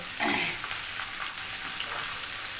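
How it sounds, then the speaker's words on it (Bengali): A fish head frying in a hot pan, giving a steady close sizzle with a brief louder crackle near the start, alone without voices. "ওদিকে মাছের মাথাটাও প্রায় ভাজা কমপ্লিট হয়ে যাচ্ছে"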